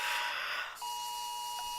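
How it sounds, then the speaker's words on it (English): A curfew alarm goes off indoors, a steady electronic tone with faint pulsing that begins partway through and holds clearly over quiet background noise, with no talking. "that is our curfew alarm"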